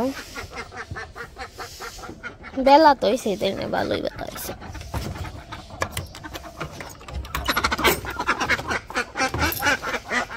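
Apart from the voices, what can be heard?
ducks quacking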